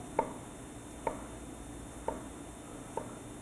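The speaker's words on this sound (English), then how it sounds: "we're going to cut vertical slices" Four evenly spaced knife strokes chop down through an onion onto a cutting board, each a crisp close thud with a quiet pause between, and no talking.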